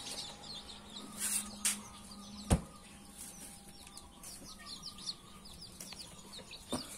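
Chickens and chicks at a poultry farm give soft, faint clucks and high peeps, scattered calls spread over a quiet, distant background with a single sharp knock partway through.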